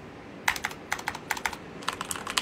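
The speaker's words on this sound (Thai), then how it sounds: "บูสวิตคีย์บอร์ดพี่มาร์คเหรอเป็นคอแซร์ครับ" Corsair mechanical keyboard keys clack in quick bursts of typing, crisp and close, with short pauses between clusters of keystrokes.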